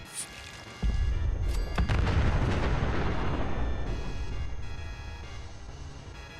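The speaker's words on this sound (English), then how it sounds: "Missile launch sequence initiated." A missile launch and explosion in Fallout 4's Far Harbor: a sharp crack, then a heavy sustained roaring boom that rumbles low and slowly fades over several seconds.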